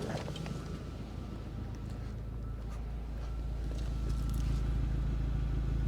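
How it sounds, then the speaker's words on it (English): A 2004 Audi A4 Avant idles outside with a tame exhaust: a steady low rumble that builds slightly toward the end, with faint scrapes and crackles over it. "I'll show you what the exhaust sounds like outside."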